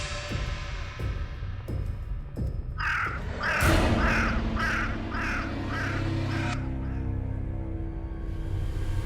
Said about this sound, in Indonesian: Suara burung itu.